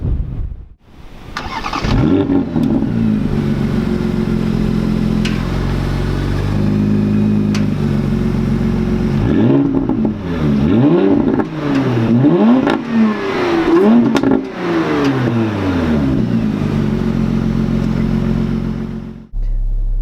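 A 2017 Porsche Panamera 4S engine starts and revs, then the car drives off with the engine rising and falling through gear changes, loud and close throughout.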